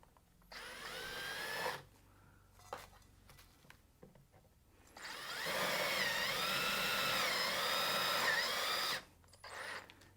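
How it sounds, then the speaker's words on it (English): A power drill whirs while drilling down through a cake, in two bursts, a short one early and a longer steady run in the middle, with quiet handling noises between. "start drilling down straight through"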